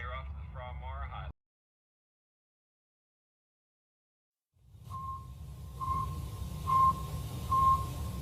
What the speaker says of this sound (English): This is the sound of Sputnik,